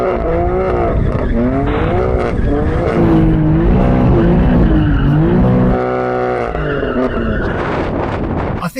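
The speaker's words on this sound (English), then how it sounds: "obviously we need to warm up their tyres" Two rear-wheel-drive cars, a BMW M4 CS and a Shelby GT350, warm up their tyres with loud, sustained revving engines and squealing wheelspin that rises and falls, continuous and close throughout.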